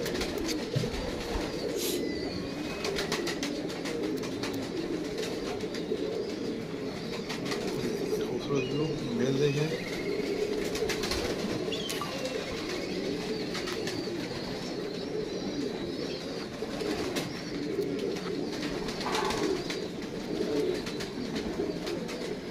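A pair of pigeons coo steadily at close range amid a busy background of fluttering and shuffling, with a continuous low hum throughout.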